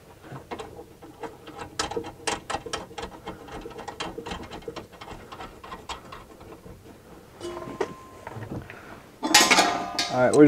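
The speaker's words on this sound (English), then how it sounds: "So we're gonna start bolting these on." Ratchet wrench bolting parts onto a horse trailer, heard as close, rapid clicking in short rhythmic bursts over several seconds, followed by a louder metallic clatter at the end.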